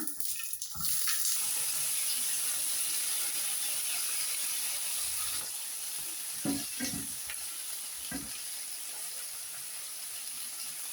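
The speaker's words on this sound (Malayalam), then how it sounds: "ഇനി നമ്മൾ കഷ്ണങ്ങളാക്കി വെച്ചിരിക്കുന്ന സവാ സവാള തക്കാളി വെണ്ടയ്ക്ക എല്ലാം കൂടെ ഒരുമിച്ച് തന്നെ അങ്ങ് ഇട്ട് കൊടുക്കുകയാണ്" Chopped onion, tomato and okra dropped together into a hot pan, a loud steady sizzle with a high hiss and occasional scraping stirs, no talking.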